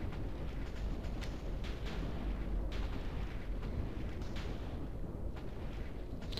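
Rumbling, continuous explosion roar from nuclear bombs detonating in Minecraft, a dense low blast wash with scattered crackling bursts throughout, steady and loud with no talking.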